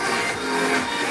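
Music pushed through an overdriven club sound system with the master turned down, a dense, smeared wall of harsh distorted noise that is quieter but still gritty, continuous and without talk.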